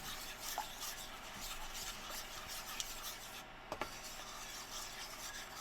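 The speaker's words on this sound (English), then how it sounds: "So we're going to stir this around a little bit until we get there" A spoon slowly scrapes and rubs through a blonde roux of flour and oil in a pot for Cajun seafood gumbo. The scraping is faint, continuous and rasping, with a few light knocks.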